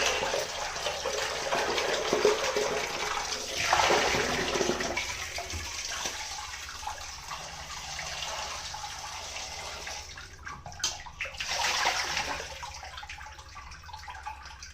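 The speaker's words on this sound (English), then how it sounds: "Now we are washing bootai fish once again in house." Bootai fish being washed at home under steadily running water, a continuous close splashing and gushing that swells and eases without pause for the whole stretch, with no talking.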